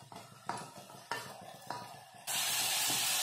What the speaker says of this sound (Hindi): बस टमाटर को भी थोड़ा सा भून लेंगे।